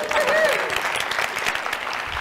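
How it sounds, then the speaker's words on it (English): Audience applause fills a talk venue as a hypnotist takes the stage, dense clapping from many hands lasting about two seconds, loud and steady with a brief whistle cutting through early on. "can I just get another round of applause for my shoes"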